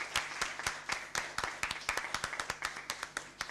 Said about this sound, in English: Let us give a big round of applause to everyone.